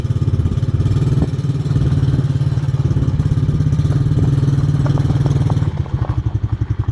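Mikilon Hammer 125 children's quad bike, a small petrol engine running loud and close with a steady rapid putter as it drives in reverse, the note dipping briefly near the end.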